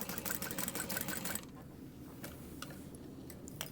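Sewing machine back stitching through fabric on a small pouch, a fast close mechanical rattle for about a second and a half, then quieter ticking and faint handling.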